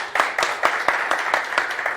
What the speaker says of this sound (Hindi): एक बार ताली ठोको यार सर के लिए